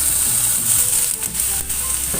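Carrots and broccoli sizzling as they are stir-fried in a pan, a steady close frying hiss with a few brief stirring scrapes, no talking.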